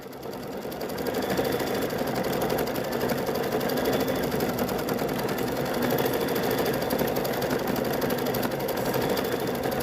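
An embroidery machine quilts a quilt held in the hoop. After a brief quiet start, it settles into a loud, continuous mechanical hum and rapid needle chatter that runs steadily to the end.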